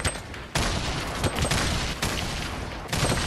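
Sustained gunfire in Fortnite Battle Royale, a continuous loud barrage of rapid overlapping shots broken by brief gaps, with no talk over it.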